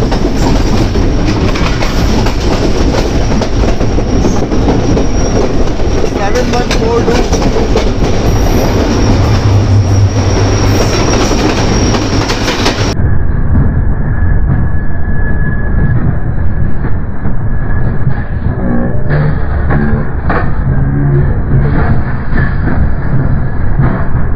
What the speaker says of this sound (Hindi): NLC का EMD लोकोमोटिव।